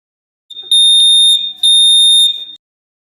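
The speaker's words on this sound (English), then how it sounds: "Fire alarm is going off" A building fire alarm sounds during a test, a loud piercing electronic tone blaring in two long bursts with a brief gap between them, heard alone.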